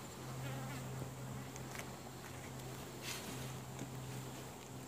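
Honeybees humming inside an open brood box during a hive inspection, a low, continuous drone close by with faint wing-buzz flickers rising and fading, alone without talk.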